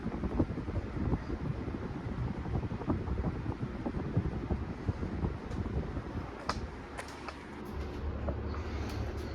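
A 1983 Casablanca Zephyr ceiling fan runs at a moderate speed, giving a steady, low, airy whoosh with a faint rumble and a few soft ticks and clicks.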